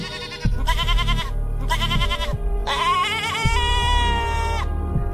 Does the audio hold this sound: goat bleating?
yes